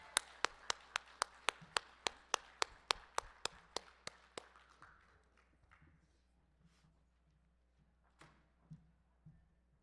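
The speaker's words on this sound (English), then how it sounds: "I'd like you all to clap for Janny Larestein" A small audience claps for a speaker at a disability caucus, starting as loud, evenly spaced single claps that thin out and fade into scattered faint taps and room murmur.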